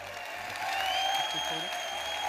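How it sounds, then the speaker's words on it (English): Audience applause for mentor Dan Peña at a success seminar, a steady wash of clapping that swells slightly partway through and holds, with a voice speaking over it. "Great round of applause for our mentor, Dan Peña."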